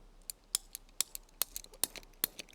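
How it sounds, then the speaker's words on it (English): Bunya nuts being cut: sharp, crisp clicks and snips in an uneven rhythm, about a dozen distinct strikes close up and alone over a faint background. "I'm just cutting up some bunya nuts"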